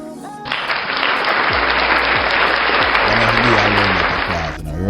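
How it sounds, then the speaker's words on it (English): Loud, dense applause from an audience at a family-themed gathering, a sustained wall of clapping that swells in and holds steady for several seconds, with a few low voices and murmurs underneath toward the end. "A round of applause for first day."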